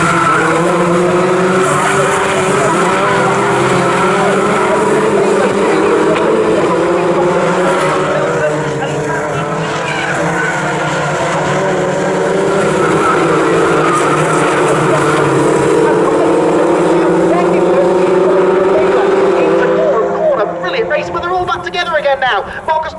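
Five BRSCC Fun Cup race cars run as one tight pack at Snetterton, a loud, sustained roar of several engines droning together with rising and falling pitch, an excited commentator talking over it throughout.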